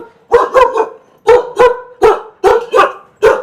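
Kombai dogs at a kennel bark loudly and close, several deep barks in quick pairs and singles repeating at a steady pace, with no talking.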